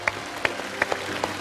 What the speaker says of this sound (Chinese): 来，掌声送给豆豆，还有豆豆的妈妈。